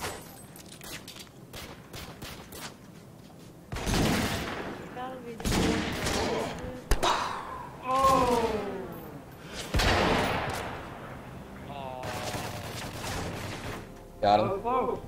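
Dense bursts of automatic gunfire and explosions from the video game Modern Warfare 3 on the Terminal map, recurring in volleys under a player's excited talk.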